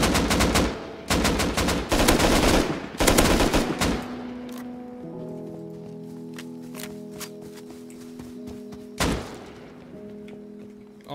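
Gunfire in the Rust video game: rapid bursts of automatic shots in the first few seconds, then scattered single shots and clatter as the firing thins out.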